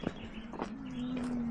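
A cow moos with a low, sustained call on a farm field beside a dirt path, heard at moderate distance with faint bird chirps around it.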